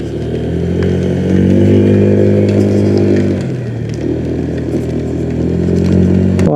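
A motorcycle engine climbs an uphill road and drones loud and close, then drops its pitch briefly in the middle before rising again.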